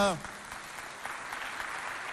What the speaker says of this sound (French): Applaudissez pour...